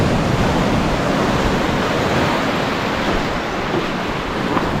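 Waves breaking on the rocky end of Hundred Steps Beach in Trinidad, a loud continuous broadband wash of surf with no pauses, close by, with wind buffeting and no voices.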